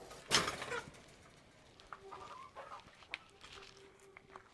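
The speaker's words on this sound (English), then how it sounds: "I'll probably have a few chickens in here as well." A sharp squawk opens, then several chickens cluck softly nearby in a coop, scattered calls continuing at low volume.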